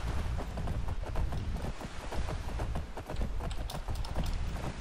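Horse hooves pounding at a gallop in Skyrim, a steady dense clatter of strikes close by over a low wind-like rumble, with no voices.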